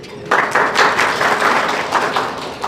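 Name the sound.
audience clapping for two people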